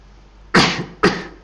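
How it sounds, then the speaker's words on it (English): Two sharp coughs from a man during a quiet guided meditation, close and fairly loud, about half a second apart against a hushed background. "Little bit of a cough,"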